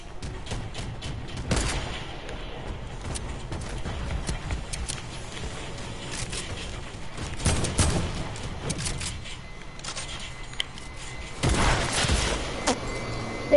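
Sniper shots ring out in a PS4 shooter, sharp cracks standing out from steady background gunfire, with several louder reports clustered in separate bursts.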